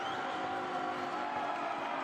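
Dense, steady roar of a home crowd at a professional soccer match celebrating an equalizing goal, a continuous wash of cheering voices with no pauses.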